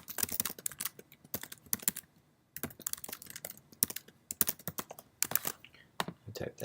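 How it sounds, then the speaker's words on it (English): Fingers type on a computer keyboard in quick, irregular bursts of close clicking key presses, with a brief pause midway, fairly quiet overall. "I type that in"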